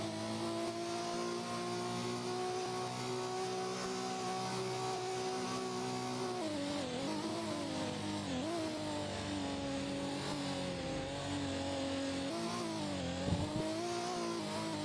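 Hybrid race cars in an endurance racing video game, engines whining at high revs with shifting pitch as they accelerate and brake, a sustained loud mechanical drone with no voices.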